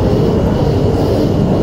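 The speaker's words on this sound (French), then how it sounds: "Sinon, vous allez entendre l'avion." Loud, steady low roar of an airplane flying over Virginia Beach, a continuous rumble close overhead with no voices.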